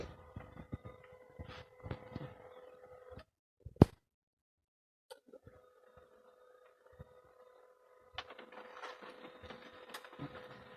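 A discarded printer salvaged from the trash whirs and ratchets as it feeds paper, mechanical clicking and grinding in bursts with a pause before the motor resumes.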